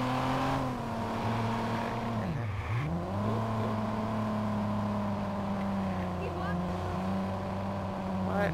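Car engine droning steadily while driving in Watch Dogs, set in Chicago, with pitch dips and rises as it slows and revs back up, continuous and close.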